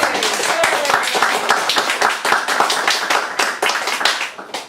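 A live audience at a music set claps steadily and enthusiastically, a dense, close round of applause that runs throughout before easing off at the very end.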